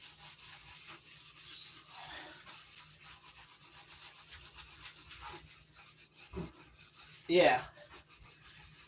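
An SOS pad scrubs a greasy stove top in a kitchen, with soft, intermittent rubbing strokes at close range, a couple of louder scrapes near the end and a brief spoken word.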